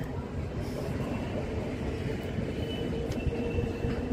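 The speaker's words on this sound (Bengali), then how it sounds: "এই দেখো ট্রেন যাচ্ছে" A train rumbles past with a heavy, continuous low roar and rattling wheels, steady throughout, fairly close with no speech.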